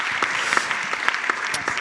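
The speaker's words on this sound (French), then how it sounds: "on peut l'applaudir pour ça" Brief scattered clapping from a festival audience at a literary event, a few distinct claps standing out over a light wash of applause for under two seconds.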